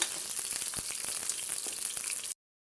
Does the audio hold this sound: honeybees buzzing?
no